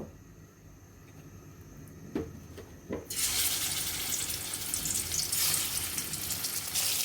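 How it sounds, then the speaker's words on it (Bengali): Fish pieces frying in white cooking oil in a pan, a broad steady sizzle bursting in partway through after a few soft clicks and knocks, then hissing continuously and fairly loud to the end. "এখন আমরা মাছগুলো ভেজে নেব"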